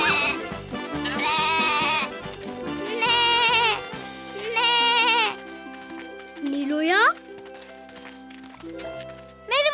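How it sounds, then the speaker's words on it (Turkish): Cartoon goats bleat while grazing in an animated children's show. A series of loud, wavering bleats comes in separate bursts, and a voice rises near the end. "Keçilerim, hadi biraz karnınızı doyurun."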